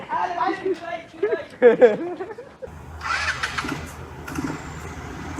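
A scooter engine starts and then idles with a steady hum near Cox's Bazar, Bangladesh. People talk just before it fires up.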